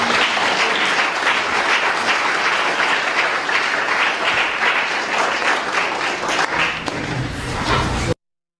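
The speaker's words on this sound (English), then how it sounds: "they all deserve a great round of applause" A crowd at a meeting room gives a loud, sustained round of applause for volleyball athletes and coaches, steady dense clapping lasting about eight seconds before cutting off abruptly.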